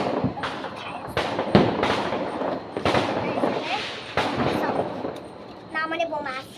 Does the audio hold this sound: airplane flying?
no